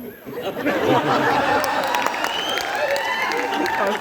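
An audience at a Hindi poetry recital applauds, a thick, steady clapping mixed with crowd chatter and murmuring voices that carries on evenly for several seconds.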